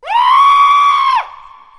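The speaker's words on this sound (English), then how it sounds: "He lets out a primal scream." A man's single sustained primal scream, loud and close, held for about a second before breaking off abruptly into a fainter, lingering tone.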